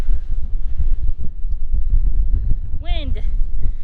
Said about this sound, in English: Wind. That's the name of the game in the spring.